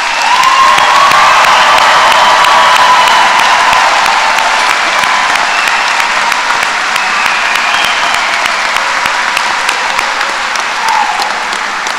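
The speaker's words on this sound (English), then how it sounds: "Let's give our graduates one more round of applause for their achievements." A graduation ceremony audience for the College of Natural Resources gives a loud, sustained round of applause with cheering and whoops, dense clapping filling the hall throughout and fading slightly toward the end.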